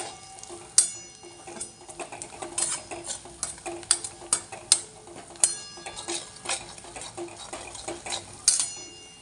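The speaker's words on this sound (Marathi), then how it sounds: "अशा पद्धतीने आपण इथे मसाले थोडेसे परतून घेणार आहोत" Ground turmeric and coriander powder toasting briefly in a pan for a spinach dish, with scattered sharp clicks of a spoon or spatula stirring against the pan over a soft sizzle, close and with no talk.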